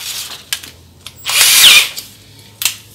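A cordless drill-driver whirs in short bursts while drilling into an amplified speaker cabinet, with one longer high-pitched spin in the middle and brief clicks and taps between, close by.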